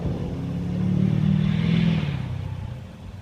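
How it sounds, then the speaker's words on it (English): A neighbor's loud pickup truck drives past at a distance, its low engine rumble swelling to a peak mid-pass and then fading away, heard alone with no talk. "Don't mind my neighbor driving by in his loud pickup truck in the distance."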